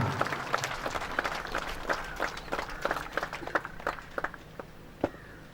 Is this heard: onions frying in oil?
no